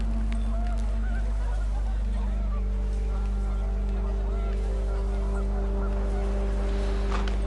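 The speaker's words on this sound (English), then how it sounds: "Panicked geese appeared and quickly went." Panicked geese honk repeatedly in the video game What Remains of Edith Finch, fairly faint over a steady low engine-like hum and drifting ambient tones, with some faint voice-like sound underneath.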